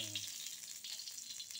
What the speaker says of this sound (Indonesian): tuangkan dulu minyak goreng